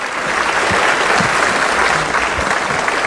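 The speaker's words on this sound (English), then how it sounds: "invite His Excellency the President of the Republic of Kenya, President William Samoei Ruto, with a round of applause as he comes" A large audience at State House, Nairobi claps in steady, dense applause, loud and close, welcoming Kenyan President William Ruto, with faint crowd murmur underneath.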